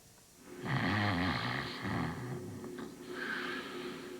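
Loud, rumbling snores with a rough, vibrating rasp, two long drawn inhales followed by a softer breathy one, close and alone.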